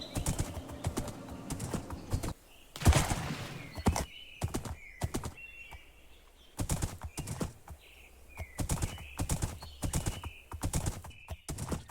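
Rhythmic clip-clop of horse hooves traveling through snow in the video game TerraFirmaGreg, in bursts, clear and close, with brief pauses between runs and a soft chirping background.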